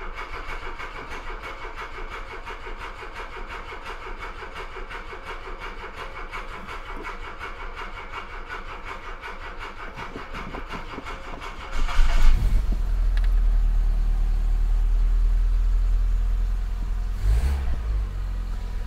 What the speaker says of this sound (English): Put a bit of choke on. And hopefully it'll start and tick over.